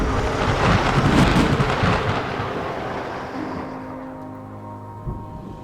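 Thunder rolls in a deep, continuous rumble, loudest early on and then slowly fading as the storm grumbles on, with a faint low crack near the end.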